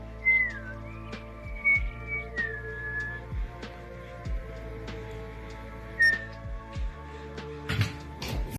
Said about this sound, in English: This guy, all he had to do was whistle.